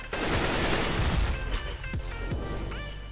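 AK-47 rifle fire in the Counter-Strike: Global Offensive game on the Dust2 map, a loud rapid burst of shots running almost continuously, with a few distinct cracks near the end.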